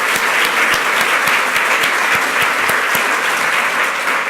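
An audience at a community board event claps steadily in a dense, sustained round of applause with no voices over it.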